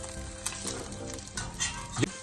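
Steady crackling sizzle of chicken for cordon bleu pan-frying in hot oil, close by, with a few soft clinks and shifts of a pan.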